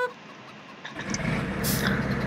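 A heavy tractor engine in the game Farming Simulator 17 turns over after a moment of quiet and settles into a low, rumbling idle, close up.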